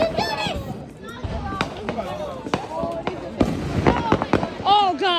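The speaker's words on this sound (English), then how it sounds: "Are these some exotic fireworks or what?" Fireworks bought from a discount store popping outdoors at night, a string of sharp bursts and crackles with whistling streaks, close and loud, while several people shout and talk over them.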